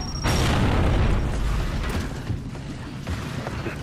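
A grenade blast in Gears of War Judgment, one loud sudden boom followed by a rumbling, crackling decay with scattered debris-like pops fading out.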